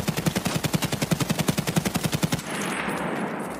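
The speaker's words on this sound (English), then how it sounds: "now the loud SA-58 standing up" Loud unsuppressed SA-58 rifle in a video game, fired standing: a rapid automatic burst of about twenty sharp, evenly spaced shots lasting over two seconds, then cutting off into a ringing echo.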